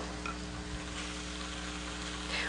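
Chicken breasts frying in a pan, a soft steady sizzle with faint crackles, close but low in level and continuous throughout.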